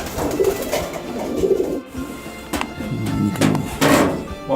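Doves cooing inside a dove loft with box perches and breeding pens, soft repeated coos close by with a few dull thunks and rustles of birds moving between calls.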